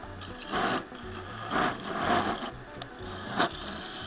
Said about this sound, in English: Cleaning up the foot with my skew.